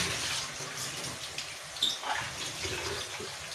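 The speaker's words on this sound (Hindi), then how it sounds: "अब हमने इसमें इतना पानी डालना है कि हमारा जो गोश्त है वो अच्छी तरह से गल जाए।" Water is poured into a cooking pot of aloo gosht with meat, a soft splashing and trickling close by in a kitchen.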